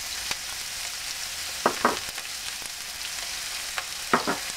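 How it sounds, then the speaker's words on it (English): Onion, garlic and leeks fry in oil in a pan with a continuous hiss, broken by a few short scraping stirs and light taps spread across the clip. "I'm going to fry this about 2 minutes"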